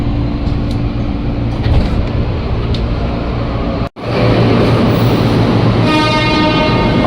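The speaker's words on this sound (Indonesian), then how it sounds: "ini dia nih KRL Inka yang lagi dinas ke lintas Kampung Bandan." A KRL Inka electric commuter train on the Kampung Bandan line passes close and loud at Tanah Abang, a sustained rumbling roar with steel-wheel noise and a brief sharp break midway.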